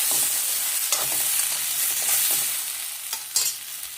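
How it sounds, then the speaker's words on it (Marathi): Okra (ladies finger) sautéing in a pan for a village-style buttermilk sabji, with a steady close sizzle and a few scraping stirs across the pan throughout. "चांगल्या भेंड्या परतून घ्यायच्या"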